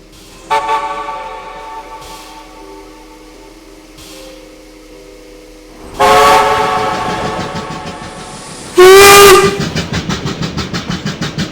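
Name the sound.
steam tank engine whistle blowing as train sets off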